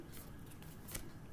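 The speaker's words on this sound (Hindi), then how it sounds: "कार्ड्स नीचे भी गिर गए थे" Tarot cards shuffled and handled at close range, with dense soft papery rustles and a brief sharper flick near the end.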